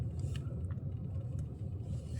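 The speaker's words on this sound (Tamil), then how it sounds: "இப்போவே இங்கே டிராஃபிக் ஆகுது" Low road traffic rumble of cars and motor vehicles near Pallavaram's Friday market, a steady distant engine drone with a few faint higher clicks and no talk.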